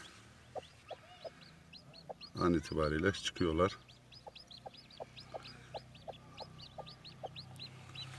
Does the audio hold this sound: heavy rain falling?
no